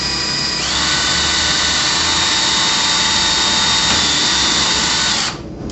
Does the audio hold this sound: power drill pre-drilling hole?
yes